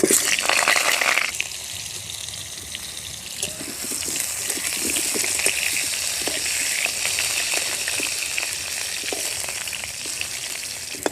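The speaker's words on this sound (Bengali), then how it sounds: "আলুটা লাল করে ভেজে নিয়েছি," Potatoes fry in mustard oil in a wok on a home stove: a loud hiss at first, then a steady close sizzle with scattered crackles and pops throughout.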